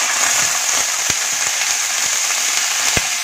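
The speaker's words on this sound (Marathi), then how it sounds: "ह्यामध्ये आता थोडंसं पाणी घालूया." A little water goes into a pan of masala with cumin and tamarind, cooking over a low flame. The pan gives off a loud, continuous sizzle with scattered sharp crackles and pops.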